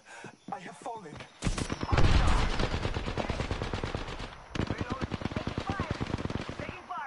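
Sustained automatic gunfire in the video game Apex Legends, a dense, loud stream of rapid shots that pauses briefly and then resumes, with speech mixed in at the start.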